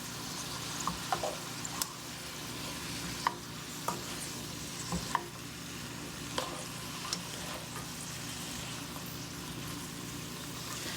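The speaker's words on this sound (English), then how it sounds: "let's just stir this around" Ribeye chops and vegetables for a stir fry are stirred in a hot pan, giving a steady sizzle with scattered sharp clicks and scrapes of the utensil, quite close and with no voices.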